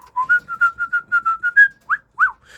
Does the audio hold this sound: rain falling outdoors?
no